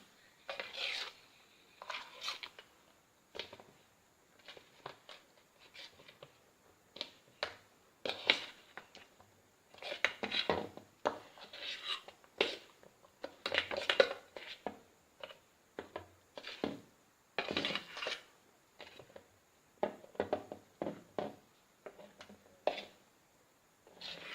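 Banana cake batter is stirred in a bowl with a spoon or spatula, producing soft, repeated scraping and rubbing strokes in irregular bursts, quiet and close, with brief pauses between them.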